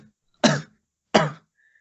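Two short, harsh coughs about half a second apart, close and fairly loud, separated by silence.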